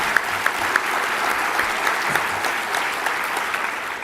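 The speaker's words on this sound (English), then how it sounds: "we all need to give him a round of applause for those efforts" A conference panel audience applauds steadily throughout, a dense, even patter of clapping with no voices above it.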